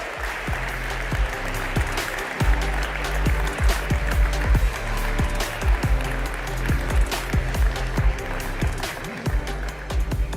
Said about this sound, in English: Give him another huge round of applause.